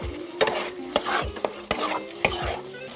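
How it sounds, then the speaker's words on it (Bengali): Spices and whisked sour yogurt frying in a pan for Bengali doi rui (fish in yogurt gravy), stirred with a utensil: steady close sizzle with about five sharp scraping knocks at a regular pace, no voices. "দই দিয়ে আমি ভালো করে কষিয়ে নেব।"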